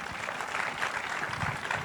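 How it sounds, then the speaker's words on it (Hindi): Audience at a live stage event breaking into applause, a dense, steady patter of many hands clapping at moderate distance, filling the space without speech. "उनके लिए तालियां होनी चाहिए।"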